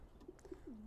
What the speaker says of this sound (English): A diamond pigeon.